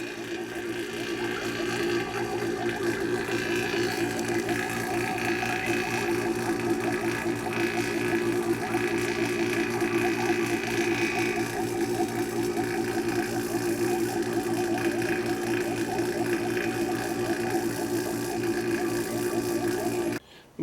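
A vacuum pump runs on the air-conditioning system of a Volvo VNL 780 truck during condenser repair, giving a steady, close mechanical drone with a fine rattling buzz that holds constant throughout and cuts off at the end.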